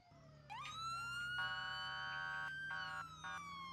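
Police car siren in a patrol video game, a rising and falling electronic wail layered with quick yelping bursts over a low engine hum, steady and fairly loud, with no talking.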